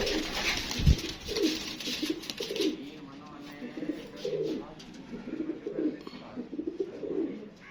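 Pigeons coo repeatedly at close range in a rhythmic series of soft, throaty calls, with some bird movement and a brief louder thump, and no talk.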